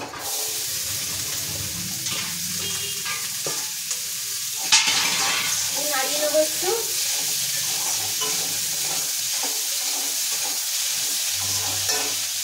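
Vegetables hiss and crackle in cumin tempering in the oil left over from frying fish, a steady sizzle with stirring scrapes throughout; a voice speaks briefly midway.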